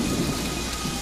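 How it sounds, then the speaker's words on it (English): A thunderstorm fills the clip with steady heavy rain and a low rumble of thunder, loud and continuous with no voices. "it was a dark, stormy night, just like this"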